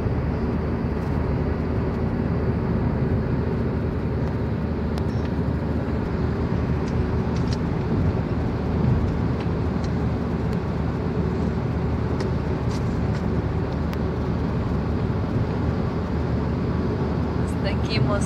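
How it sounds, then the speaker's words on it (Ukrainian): A car drives along the ring road around Warsaw, its steady tire and engine rumble droning loudly and evenly inside the cabin throughout. "Зараз їдемо по об'їзній коло Варшави."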